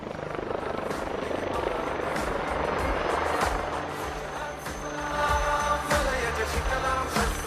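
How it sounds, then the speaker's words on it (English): A HAL Light Utility Helicopter flies a display at the Aero India air show, its rotor thudding and engine whining steadily and loudly throughout, with faint crowd or announcer sound underneath. "pilots now get ready to perform the rearward flight, culminating in the accelerating tail-up hover"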